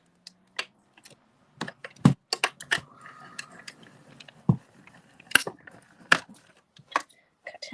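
A mini die-cutting machine rolls a die and stamped image through for a card, heard as a series of sharp plastic clicks and clunks spread unevenly over several seconds, close by and alone.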